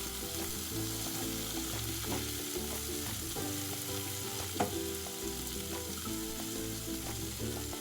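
Lamb mince curry with peas and potatoes frying over high heat in a pan, a dense continuous sizzle with soft stirring scrapes and an occasional clink, close and steady throughout.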